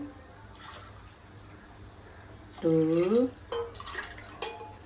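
Water is poured into a pot of meat cooking for biryani, a soft, low splashing that runs under a person talking.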